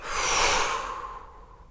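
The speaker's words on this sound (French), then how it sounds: "Évacuez vos tensions en soufflant." One long, soft exhaled breath blown out through the mouth to release tension, close and breathy, fading away over about a second and a half with no speech.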